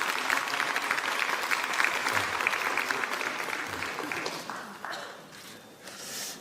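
Party lawmakers at a caucus meeting applaud a newly introduced colleague, a Seogwipo member named Kim Seong-beom, with a dense, sustained round of clapping that gradually thins out toward the end.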